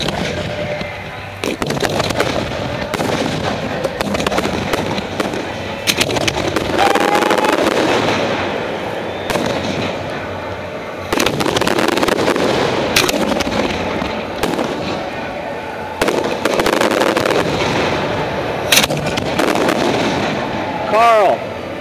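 Fireworks bang and crackle at a Fourth of July celebration at Stafford Motor Speedway, with repeated sharp bursts and pops scattered over a steady crowd murmur while people talk nearby.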